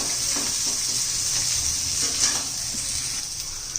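Tomato frying in oil with capsicum for an egg chilli fry, giving a steady, close sizzle that holds evenly throughout with only faint stirring knocks beneath.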